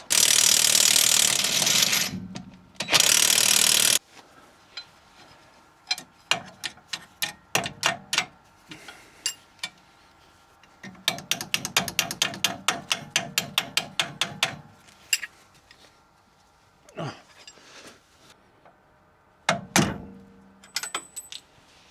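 A 19 mm socket ratchet loosens the shock absorber bolts on a Dacia Duster 4x4, giving bursts of quick clicking strokes separated by pauses, with loud bursts of rushing noise at the start.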